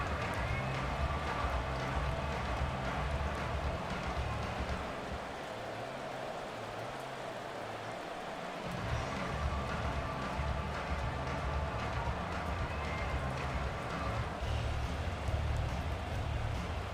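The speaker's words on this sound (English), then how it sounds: "The rain set to continue as we are underway in the second half." Steady rain hisses over an NFL playoff game between the Philadelphia Eagles and Tampa Bay Buccaneers, a dense wash of noise beneath distant crowd murmur and a commentator's voice.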